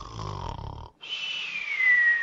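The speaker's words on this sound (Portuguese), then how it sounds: "Cris, para de roncar, Cris." A person snores in two drawn-out, wheezy breaths, the first rough and rattling, the second a rising nasal whistle after a short pause, close and fairly loud.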